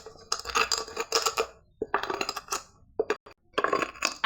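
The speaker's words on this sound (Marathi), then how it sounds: "मस्तपैकी सारिका आता विलायची बारीक करत आहे" Cardamom pods crushed with a metal tumbler, giving repeated bursts of clinking, grinding metallic scrapes in irregular clusters with short silent gaps, close and fairly loud.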